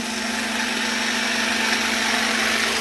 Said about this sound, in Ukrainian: Працює інвертор. Цей звук е, під'єднує,